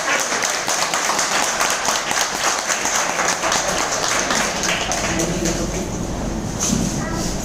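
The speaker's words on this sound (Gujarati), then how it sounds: "આજ એમના માટે તાળી બજાવશો" An indoor audience at a business gathering claps steadily for several seconds, a dense, even patter of many hands heard up close with voices mixed in.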